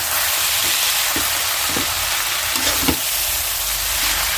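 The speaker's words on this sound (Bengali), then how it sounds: "একদম তেলের মধ্যে পেঁয়াজ রসুন শুকনো মরিচ কাঁচামরিচ দিয়ে" Onion, garlic, dried and green chilies fry in hot oil for a village dhenki shak dish, a loud continuous sizzle close by with a few soft thuds of stirring underneath.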